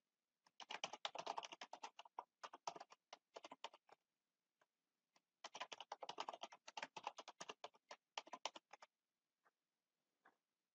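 Bursts of rapid key clicks from a computer keyboard as a password is entered, two long runs of close, crisp tapping separated by a short pause, then a few isolated keystrokes.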